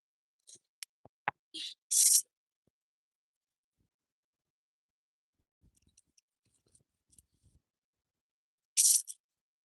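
Oracle cards are shuffled in a few quick crisp riffling bursts with light tapping between them, close by in an otherwise quiet room.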